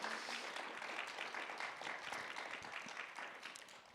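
Applause for panelists at an education-in-emergencies event fills the room as a steady, even wash of clapping from the audience, moderately distant and sustained throughout without voices.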